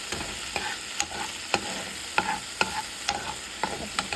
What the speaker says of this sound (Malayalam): ലോ ഫ്ലെയിമിൽ വെച്ചിട്ട് ഇപ്പോൾ ലെമൺ ആഡ് ചെയ്തിട്ടുണ്ട്. എന്നിട്ട് നമുക്കൊന്ന് മിക്സ് ചെയ്യാം.